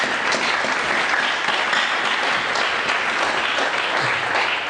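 A church congregation applauds in steady, continuous clapping that fills the room evenly from start to finish, loud and close, with a faint voice or two underneath.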